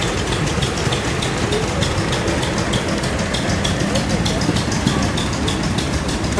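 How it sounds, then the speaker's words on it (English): A 1958 International Harvester 560 tractor engine runs steadily at a threshermen's show, a continuous close, loud rumble with a dense rattling texture and no pauses. "Bob Frederick from Humboldt, Iowa, with a 1958 International Harvester 560."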